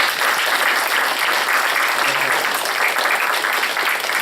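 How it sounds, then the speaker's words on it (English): An audience applauds a guest speaker with loud, sustained, even clapping that fills the room for the whole stretch. "would you give him a round of applause?"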